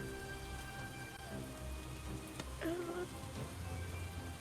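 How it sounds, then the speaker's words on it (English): Steady rain falls outside as background ambience during a tabletop role-playing session, a soft continuous patter with a brief tonal sound rising briefly over it. "it is raining outside"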